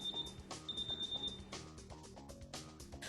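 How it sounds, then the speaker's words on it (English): Home security alarm system sounding its exit beeps, a steady high electronic tone repeating in short pulses, partly masked by louder background music. "the exit beeps are sounding as they leave to run an errand"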